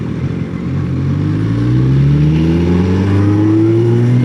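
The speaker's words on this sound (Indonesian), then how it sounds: "Ini motor lewat sini kayaknya juga mau sama nih," A motorcycle or similar vehicle on a road near an industrial area by the toll road access, its engine pitch rising steadily as it accelerates past close by, loud and continuous with no talk.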